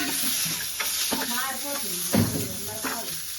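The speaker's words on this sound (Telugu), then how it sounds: "కొంచెం పచ్చి కొబ్బరి వేయించుకోవాలా" Raw grated coconut fries in a pan with a continuous close sizzle, broken up by scraping stirring strokes, while a voice murmurs faintly in the background.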